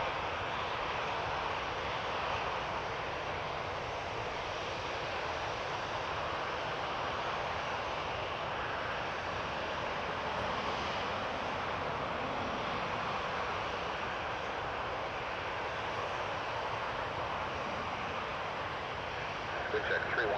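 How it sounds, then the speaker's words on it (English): A Jazz airliner diverting to land on runway 33 right at Toronto Pearson Airport gives a steady, distant engine roar that holds evenly throughout at low volume. "Diversion landing on 33 right. Yeah. Jazz plane to Charleston."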